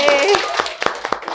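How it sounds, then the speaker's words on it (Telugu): Several sharp hand claps from a small group, applauding Lasya as a contest winner, land in an uneven rhythm over about a second and a half, with voices and background sound underneath. "క్లాప్స్ కొట్టాలి లాసియాకి."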